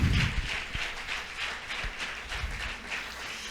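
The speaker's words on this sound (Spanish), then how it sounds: "A ver si le puedes dar un aplauso." A church congregation applauding during a sermon, a steady wash of clapping heard from the room, moderately loud and continuous.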